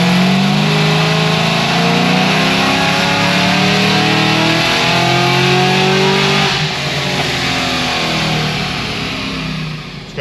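A Cadillac CTS-V2 engine revs hard and steadily on a dyno pull after an E85 fuel blend is added, a loud, continuous engine roar climbing in pitch for about ten seconds before easing off at the end.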